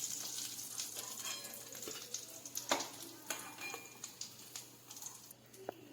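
Potato vadas fry in hot oil until golden brown with a quiet, steady sizzle and scattered small pops and crackles, heard close with no voices.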